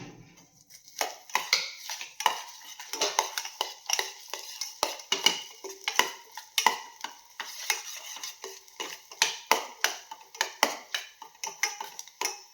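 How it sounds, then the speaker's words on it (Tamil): A spoon stirs dried fruits in a bowl for an eggless Christmas fruit and plum cake, giving a steady run of close, quiet clinks and scrapes with no talk. "இதுலேயே நம்ம எடுத்து வச்ச ஃப்ரூட்ஸை கொஞ்சம் மிக்ஸ் பண்ணி வச்சிடலாங்க."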